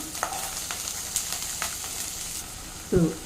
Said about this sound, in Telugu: ఫస్ట్ ఇవన్నీ వెజిటేబుల్స్ అన్నీ యాడ్ చేద్దాము. ఫస్ట్ ఇవి కుక్ అవ్వాలి.